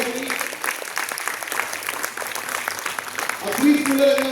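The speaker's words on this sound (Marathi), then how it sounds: "जोरदार टाळ्या विद्यार्थ्यांसाठी." Audience applause for students after a school play on stage, a steady clapping wash across the whole stretch with a loud voice speaking over it near the end.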